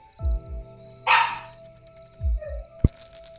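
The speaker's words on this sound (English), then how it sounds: "Can you hear my neighbor's dogs howling away, and now my dog is barking upstairs." Dogs bark in short bursts: a dog barking upstairs indoors and neighbor's dogs howling farther off, a few sharp yaps near and distant, with a brief higher whine and a faint sustained tone in between.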